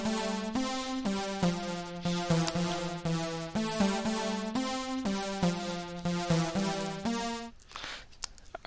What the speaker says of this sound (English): the synth we used here is the Harris Wobble synth